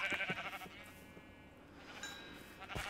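Sheep in KaoshKraft bleat in a quick wavering burst up close, followed by a fainter second bleat near the end.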